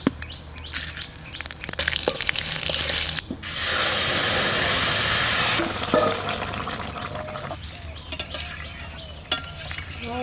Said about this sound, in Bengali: ফোড়ন দিলাম, ফোড়নের তেজপাতা, শুকনো লঙ্কা,